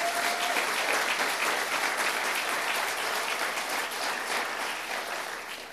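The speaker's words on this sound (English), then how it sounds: "So let's give them a round of applause." A crowd at a political speech gives a sustained round of applause, a thick, continuous wash of many hands clapping at constant strength that eases slightly toward the end.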